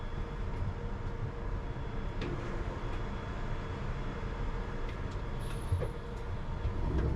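A London Underground train rumbles low and steady with mechanical hum and faint clanks, building gently as it departs, heard from the driver's cab, no voices present.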